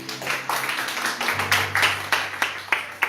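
Church congregation clapping in a loose rhythmic pattern, sharp repeated claps over a sustained musical tone, moderately loud and close.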